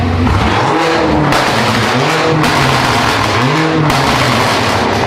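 Loud, close revving of a rebuilt 720-horsepower BMW M5 Competition engine, three or four sharp blips rising and falling in quick succession with no speech.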